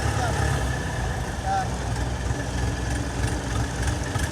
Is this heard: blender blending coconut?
no